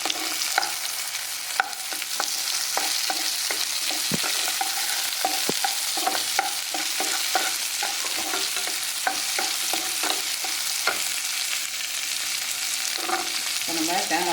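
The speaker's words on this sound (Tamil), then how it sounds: "பொட்டுக்கடலை சேர்த்து சும்மா ஒரு வதக்கி" Roasted gram is stirred and sautéed in a pan, with a soft sizzle under repeated scraping and clinking spoon strokes that keep an uneven rhythm for the whole stretch, close and with no voices.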